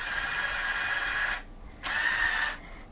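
A small electric motor in a LEGO Technic Volvo Mars Mission toy drives a drill boom, whining steadily, stopping for a moment, then running again in a second short burst before stopping.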